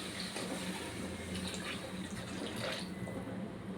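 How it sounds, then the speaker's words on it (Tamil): Water poured into a pan while cooking ivy gourd gravy, a faint steady splashing and trickling stream that runs evenly throughout with no voices. "நான் வந்து 1 சொம்பு போல் தண்ணி ஊற்றிருக்கேன்."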